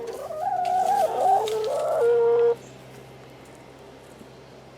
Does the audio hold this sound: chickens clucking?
yes